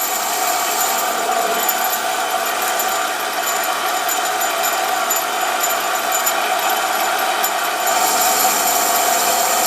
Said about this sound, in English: Removing about 40 thousandths per pass here. Pretty good pace for this little lathe.